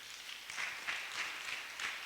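A church congregation applauds the Lord with a steady wash of many hands clapping together, fairly distant and even throughout a brief stretch.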